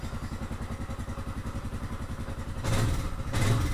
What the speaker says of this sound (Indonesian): Starter langsung nyala. Kita intip suara mesinnya.